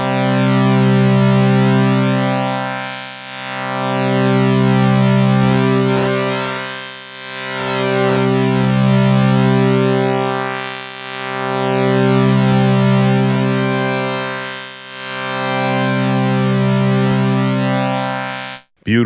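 Free u-he Tyrell N6 software synth playing a sustained tone while LFO2 sweeps the oscillator tune, producing slow, steady pitch wobbles that rise and fall in regular cycles, loud and alone, ending with a brief click.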